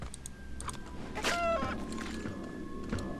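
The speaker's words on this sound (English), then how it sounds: "Oh, you heard that chicken die, huh?" A chicken in the video game Mask of Eternity clucks and squawks as it is killed, a short burst of bird cries peaking midway over a steady game-music and ambience bed.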